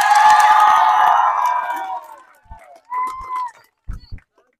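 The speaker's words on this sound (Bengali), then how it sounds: "জয় ভাইয়ের জন্য একটা জোরে তালি দেন" A crowd at a casual football shooting challenge bursts into loud cheering and shouting for a scored goal, fading over about two seconds, followed by scattered brief calls and voices.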